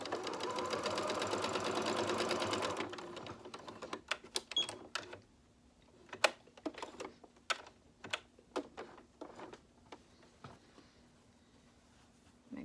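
A sewing machine runs steadily for about three seconds, stitching fabric for cleansing cloths, then gives way to a series of sharp, separate clicks and taps from handling the machine and cloth at close range, with no one talking.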